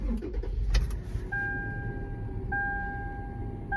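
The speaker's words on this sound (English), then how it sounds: "Let's go ahead and turn on the car." A Toyota 4Runner being started after a head unit install: a short cluster of key and ignition clicks with a low engine rumble, followed by a steady electronic chime tone that repeats as the car comes on.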